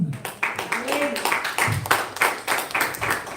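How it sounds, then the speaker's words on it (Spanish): A church congregation claps rhythmically for the Lord in steady, loud beats, with voices and music mingled beneath the clapping. "Esto es para darle palmas al Señor."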